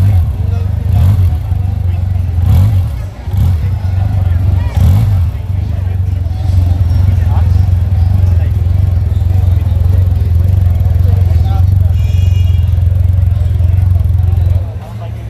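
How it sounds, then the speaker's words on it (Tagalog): Stock exhaust of a 2024 SYM Maxsym TL 508, a 500cc maxi scooter, idling steadily with a loud, close low drone and brief revs near the start, continuing unbroken for the whole stretch. "Yan po yung kanyang exhaust sound na stock mga idol."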